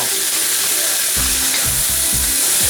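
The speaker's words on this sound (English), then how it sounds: "Once it browns up, put in the onion. We'll just stir it a little bit." Chopped onion sizzling in hot oil in a pan, with a steady fry hiss and a run of close, rhythmic scraping stirs starting partway through.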